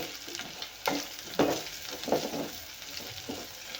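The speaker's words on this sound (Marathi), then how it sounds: "अर्धा चम्मच हळद घातली आहे तेही तेलामध्ये परतून घेऊया" Brinjal pieces and half a spoon of turmeric frying in hot oil for a tur dal and brinjal curry, a steady close sizzle with several louder stirring scrapes, no talking.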